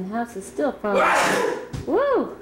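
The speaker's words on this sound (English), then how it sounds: "It was just a sneeze." Sudden loud sneeze near the microphone, a sharp noisy burst in the middle of playful voices talking and exclaiming around it.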